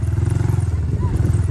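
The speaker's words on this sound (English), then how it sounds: "he wants the throttle. He keeps twisting it." A dirt bike ridden by a four-year-old revs as the throttle is twisted, giving a loud, close, steady low engine throb with rapid pulsing rhythm throughout.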